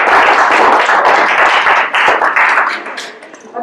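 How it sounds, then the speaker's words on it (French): Audience applause at a talk on carbon footprints, dense clapping filling the room loudly for about three seconds before thinning out and fading near the end. "oui, vous pouvez applaudir"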